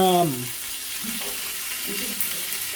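Oxtail pieces browning in a pot, a continuous bright sizzle of frying meat close by, steady throughout, with a brief voice fragment at the very start.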